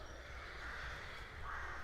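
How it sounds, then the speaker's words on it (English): Crows calling over a village in Lincolnshire on a mild, overcast early afternoon, their caws faint and distant over a steady wash of outdoor ambience. "there's a lot of crows about"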